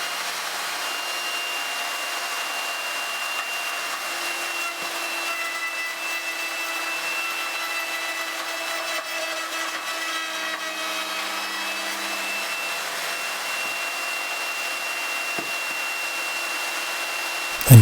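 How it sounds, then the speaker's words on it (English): A router cuts a dovetail slot in wood with a steady, close, high-pitched whine that holds evenly for the whole stretch, with no talking over it. "this is cutting the second edge of a dovetail slot"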